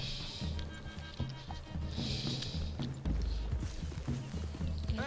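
Horses in the Red Dead Redemption 2 story mode walk through trees, with soft, steady clip-clop hoofbeats and light rustling throughout, heard at moderate distance.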